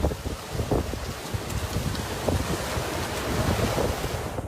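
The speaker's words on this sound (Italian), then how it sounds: "Raffiche di vento fino a 100 km/h" Strong wind gusts of up to 100 km/h roar across the Treviso area, a continuous heavy rush with buffeting on the microphone and no voices.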